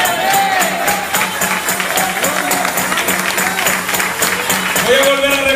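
A church congregation at an evangelical service applauds steadily and loudly throughout, a continuous wash of clapping mixed with crowd voices and some tonal sound in the background.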